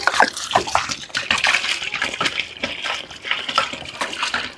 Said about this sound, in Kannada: ನೀರು ಹಾಕ್ತಾ ಇದ್ದೀವಿ.